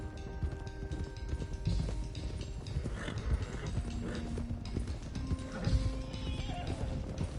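Horses in Red Dead Redemption 2 gallop with steady clip-clopping hooves and loud neighs and whinnies over a continuous game soundscape, with a faint voice speaking underneath.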